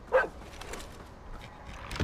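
A single short dog bark in the mobile survival game Crisis X at the start, then only a low steady background hum.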